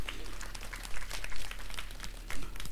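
A classroom audience claps for a student, with dense scattered hand claps at moderate distance running throughout and a few louder bursts.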